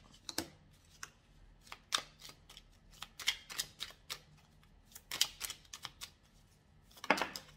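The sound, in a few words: playing cards being dealt and jumping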